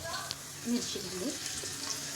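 Cumin seeds and green chillies sautéing in a hot pan, a soft steady sizzle with a few stirring scrapes, quiet and close, with a voice briefly heard over it.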